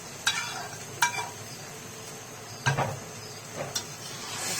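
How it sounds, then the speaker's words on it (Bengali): Fried raw jackfruit and potatoes being stirred into spice masala in a pan: a few scattered scraping strokes of a spoon over a low steady sizzle, close and fairly quiet. "এখন মশলার সাথে ভালো করে এঁচুড়গুলোকে মিশিয়ে নিব।"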